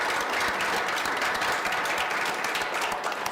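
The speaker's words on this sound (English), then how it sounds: "Let's give them another round of applause." A church congregation applauds an ensemble after their music, dense steady clapping that fills the room at an even loudness from start to finish.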